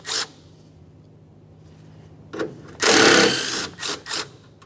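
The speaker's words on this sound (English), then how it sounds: "To remove the mounting hardware, we'll be using a 10mm." A ratchet with a 10mm socket removes radiator mounting hardware on a 1994-1997 Honda Accord 2.2L four-cylinder, giving short bursts of rapid clicking and one longer ratcheting run, close and fairly loud with quiet gaps between.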